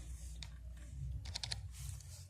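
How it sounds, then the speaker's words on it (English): The left bracket key is tapped on a computer keyboard while using Photoshop's brush tool: a few quiet, close key clicks, one single and then a quick cluster of three, over a faint room hum. "reduce the size by clicking on the left bracket in the keyboard"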